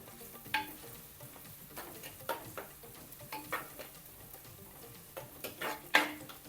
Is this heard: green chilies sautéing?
yes